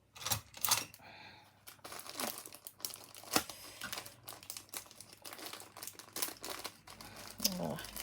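Plastic store-bought packaging being pulled, crinkled and torn open by hand, close and fairly soft, with irregular rustling bursts and a brief voice in places.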